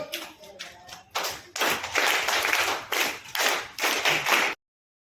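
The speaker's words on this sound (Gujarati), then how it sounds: "તાળીઓની ગોળ" An audience at a World Environment Day celebration in Vadodara, where trees were presented to children, claps in several loud, close bursts separated by short pauses before stopping abruptly.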